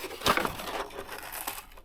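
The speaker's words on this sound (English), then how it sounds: "Make sure you have a good pair of scissors to cut the cardboard." Scissors cut through cardboard for a bracelet display, making close, crunchy crinkling and snipping bursts, the loudest near the start, then a few softer cuts, with no one speaking.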